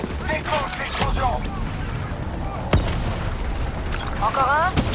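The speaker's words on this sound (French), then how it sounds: "Pointe sur la cible! Déclenche l'explosion!" An explosion triggered in the Call of Duty Black Ops 3 campaign lands as a dull boom amid ongoing game noise and combat sounds, with a voice speaking over it.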